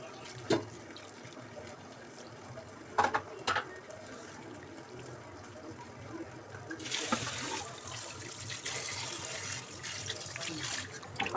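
Water is added to marinated hilsa fish before cooking: a few soft knocks and clatters, then a steady splashing flow that runs through the second half, close by and moderately loud.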